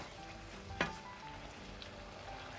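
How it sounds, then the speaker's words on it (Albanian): Chunks of meat fry in a pan, a faint, steady sizzle with one sharp clink of a utensil early on and no talking. "Mishin do vazhdoj ta fërgoj mirë"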